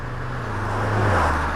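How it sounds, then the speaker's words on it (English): In the OMSI 2 bus simulator, a loud car goes past, a swelling low engine drone that rises and peaks near the end of the short moment, with no talking over it. "That's a loud car."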